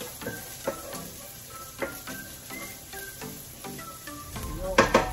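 Onions sizzling in a pan for chicken curry, with a steady low frying hiss, scattered clinks of a spoon stirring against the pan, and a louder burst of sizzle near the end.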